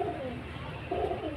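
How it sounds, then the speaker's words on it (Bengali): A pair of Kaldoma Matras pigeons coo close by, two soft rolling coos separated by a short pause, with no other sounds. "এই যে ফ্রেন্ডস খুব হাই কোয়ালিটি এক জোড়া ম্যাট্রাস পায়রা"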